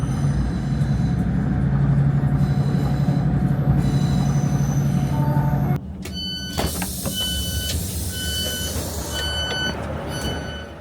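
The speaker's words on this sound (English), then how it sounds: "we're going to jump back on the train now and let's go to Heysham Harbour or Port" Northern passenger train running between Morecambe and Heysham Port, with a steady rumbling roll of wheels on rails, then a sudden drop into brighter squealing, clattering running sounds and scattered beeping tones, loud and close throughout, no talk.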